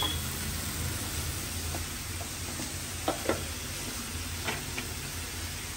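Bitter gourd (karela) fries in a pan with green chillies, a steady hiss of sizzling oil and a few light clacks of stirring, all up close with no talk.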